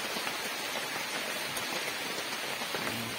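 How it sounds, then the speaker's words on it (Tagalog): Steady rain pours down in a heavy downpour, a dense, even hiss of drops on surfaces that continues without a break and without voices. "Pati may ulan din eh. Undang-undang lang ang ulan."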